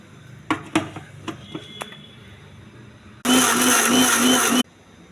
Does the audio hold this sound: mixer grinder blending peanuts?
yes